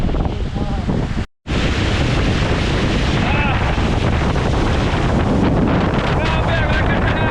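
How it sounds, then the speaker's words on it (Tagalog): Strong sea wind buffets the microphone at a beach boat-building site, a loud, constant roar mixed with surf, with a brief dropout and faint voices under it. "Grabe ang lakas ng hangin."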